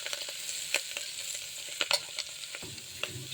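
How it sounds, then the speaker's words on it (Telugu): Chopped carrot and amaranth greens sizzle gently in a pan, with occasional clicks and scrapes of stirring over a steady low fry, no voices. "ఇది కూడా మంచిగా కొంచెం ఫ్రై చేయాలి."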